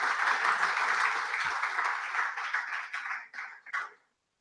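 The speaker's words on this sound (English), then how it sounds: "We start with a big round of applause for EMA" Audience at a convocation ceremony applauding, a steady wash of many clapping hands that thins out and fades away at the end, with a faint voice underneath.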